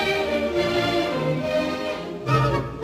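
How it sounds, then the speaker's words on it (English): A few seconds of waltz music play at moderate volume, with sustained, layered tonal chords and a gentle, swaying melodic line. "And a waltz sounds like this."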